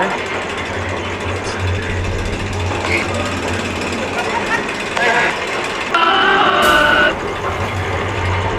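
The Big Thunder Railroad roller coaster train at Disneyland rattles and clacks along its track nearby in a steady mechanical clatter that swells louder near the end, with voices underneath.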